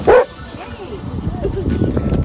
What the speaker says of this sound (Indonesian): jadi gue abis digonggongin sama anjing